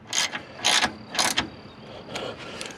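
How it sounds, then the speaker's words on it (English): A ratchet snugs down bolts on a Honda CR-V AC compressor, several quick bursts of close, rasping clicks separated by short pauses. "Take the ratchet, snug them down."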